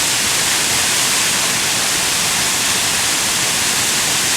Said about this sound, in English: This is a secret waterfall.